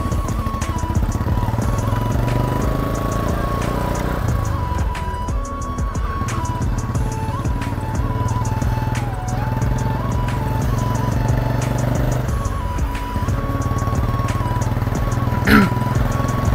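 A Royal Enfield Bullet motorcycle being ridden with its windshield removed, its engine thumping in a steady, loud drone that rises and falls slightly with throttle changes, close up for the whole stretch.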